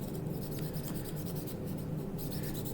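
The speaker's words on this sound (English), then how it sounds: "Now I'm going to use the sponge side. It's a little bit of a softer scrub on it." The soft sponge side of a scrubber rubs steadily against a knife blade to clear rust, a close, quiet, continuous rasping scrub with repeated back-and-forth strokes.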